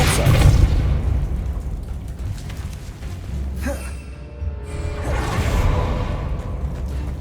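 A Depulso spell cast in Hogwarts Legacy opens with a deep boom and a rushing whoosh, then a swelling magical burst and a sustained roar.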